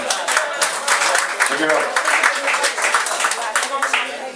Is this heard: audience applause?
yes